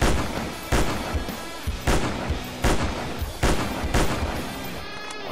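Grenade blast in the video game Dinosaur Hunt Africa: several loud, booming bursts roughly every second, each with a sharp onset and rumbling tail, over a dense steady background.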